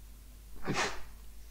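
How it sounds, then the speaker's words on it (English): A single close sneeze bursts out once, short and loud near the microphone, with near silence before and after, from a person playing Minecraft. "Ooh, sneeze coming."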